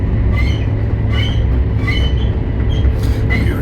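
A fast train in Germany, past Wolfsburg, races through a station at speed, heard from on board as a loud, steady rumble with recurring high wheel squeals and no talk.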